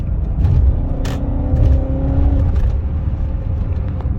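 A 2000 BMW E39 M5 accelerates from inside the cabin, its engine giving a deep steady rumble and a rising drone that holds strong for several seconds with no talk.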